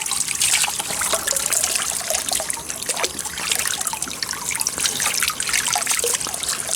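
Water trickling and splashing steadily as freshly harvested shrimp are rinsed a few at a time, a close, continuous bright patter with small irregular drips and splashes throughout.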